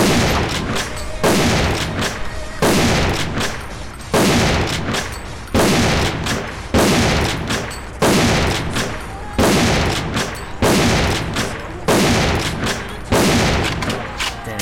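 Twelve evenly spaced, loud booming shots from an SV98 bolt-action sniper rifle in the game AVA, fired at a 5 m target, each crack followed by a short decaying tail about a second apart.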